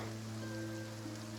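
Steady rain falling over Fontaine in Genshin Impact, a soft continuous patter spread evenly across the clip under a low sustained musical drone, with no voices.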